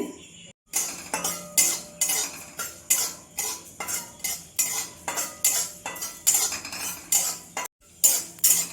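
Dry red chillies, coriander seeds and cumin are stirred as they roast in a pan, a metal spoon scraping and clinking in steady repeated strokes with a faint dry rattle of spices, close and alone.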